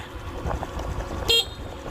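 A single short horn toot from a 2022 Honda Wave 110i motorcycle sounds once, close by, standing out briefly above a low steady engine rumble.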